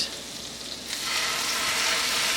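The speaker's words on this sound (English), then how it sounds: "we're going to put some butter in a frying pan and we're going to fry them up" Garlic fries in hot butter in a frying pan, a steady broadband sizzle that swells louder about a second in and holds close and continuous, with no talking.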